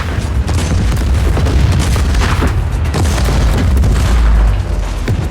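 Loud, continuous booming explosions in Just Cause 4 rumble heavily around an armored train, with crackling debris and a dense wall of noise throughout.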